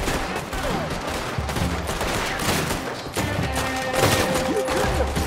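Dense gunfire in Red Dead Redemption 2: rapid overlapping shots and volleys crackle continuously, loud and close, with a brief dip near the middle before the fusillade resumes.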